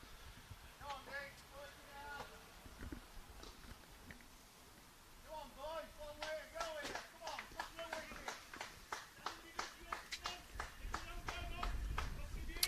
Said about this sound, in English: I don't know if you can hear it on our atmosphere mics, but there's a lot of clapping and cheering back again